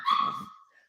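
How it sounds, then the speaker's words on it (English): A single short bark from a dog, close and fairly loud, trailing off into a faint whimper. "I'm babysitting a dog."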